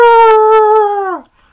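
A single dog howl, loud and close, holds one steady pitch for about a second before sliding downward and cutting off, followed by silence.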